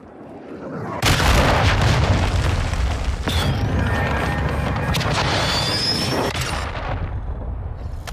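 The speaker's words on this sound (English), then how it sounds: "Hostiles launched a cruise missile." A cruise missile launch explosion in Call of Duty: Modern Warfare II, a heavy booming blast that swells suddenly and rumbles on with crashing debris and a long fading roar.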